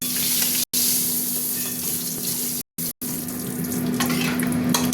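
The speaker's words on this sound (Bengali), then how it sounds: "পটলগুলো ভাজা হয়ে গেছে।" Whole pointed gourd (potol) fries in oil until golden, a steady loud sizzle running throughout with brief dropouts.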